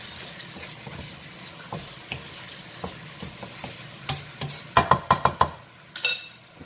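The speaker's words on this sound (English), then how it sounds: "saute the fish with the sauce" Catfish being sautéed with sauce in a pan: a soft sizzle under scraping stirs, then a run of sharp, close metallic clinks of utensil against pan toward the end, no voices.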